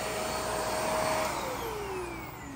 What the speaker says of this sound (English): this vacuum actually isn't bad